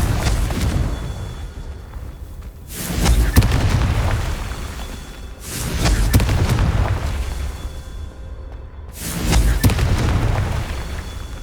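Hogwarts Legacy Confringo spell explosions: three loud booming blasts a few seconds apart, each with a sharp onset and a long rumbling decay.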